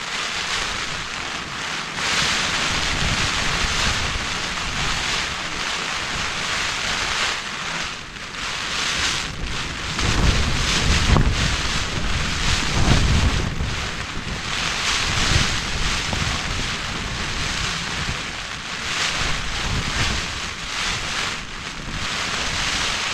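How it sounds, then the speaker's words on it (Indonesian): Strong wind roars across an exposed, high rocky mountain camp on Leuser during bad weather with heavy rain, a loud, continuous gusting rush close to the microphone. "angin kencang dan hujan semakin lebat"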